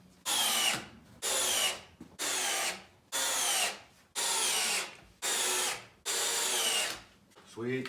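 A power drill whirs in seven short bursts, each about a second long with brief pauses between, loud and close, driving screws into wood.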